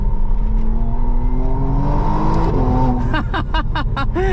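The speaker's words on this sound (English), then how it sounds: "Sport mode has more of an interruption ignition cut in between the shifts, make it feel a little bit more lively" A 2025 McLaren Artura Spider in Sport mode revs hard, its engine note climbing steadily, then snaps through several quick upshifts, each marked by a sharp ignition-cut crackle, loud and close from the cabin.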